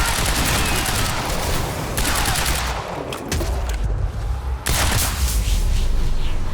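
Rapid automatic gunfire from an enemy turret in the Quantum Break game, sustained loud bursts with brief pauses, a dense continuous barrage.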